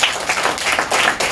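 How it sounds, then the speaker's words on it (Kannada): Children at a Children's Day school celebration clap loudly together, a dense burst of applause with pulsing swells lasting the whole moment, close and energetic. "ಇನ್ನೊಂದ್ ತರ ಜೋರಾಗಿ ಚಪ್ಪಾಳೆ ಇರಲಿ"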